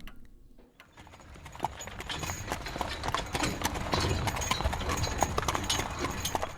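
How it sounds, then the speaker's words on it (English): Horse hooves clip-clop at a steady walking rhythm as a horse and cart climb a quiet road into the hills of Transylvania, the clops growing louder over a background of cart rumble and creaking. "We're travelling by horse and cart up into the hills which are fast becoming mountains."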